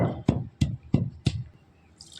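Small splashes of water poured into a pan while making saag: five distinct plops fall about a third of a second apart, followed by a faint, brief hiss. No one speaks.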